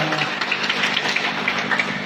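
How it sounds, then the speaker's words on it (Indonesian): Applause for the female village head at a West Java village-office competition event, a soft, even patter of many hands clapping in a room for about two seconds, with no talking. "tepuk tangan buat Ibu Lurah"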